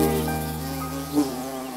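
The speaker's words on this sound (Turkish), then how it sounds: "Arılar kovana gelmişler Onlara çok sinirlenmişler" Bees buzz steadily and close, a continuous droning hum with no voices over it.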